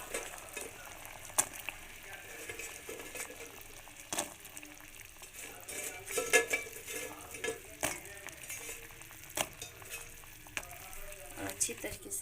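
Fried wheat-flour sweets are dropped into warm sugar syrup, giving a faint, soft sizzle with light stirring and occasional clinks of a utensil against the pan.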